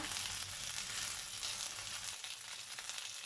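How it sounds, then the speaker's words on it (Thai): Chicken sizzles and crackles steadily in a hot pan, stir-fried until golden for a Thai noodle curry, a soft, continuous frying hiss with faint stirring scrapes. "อันนี้ผัดไก่ให้เหลืองก่อนนะคะ"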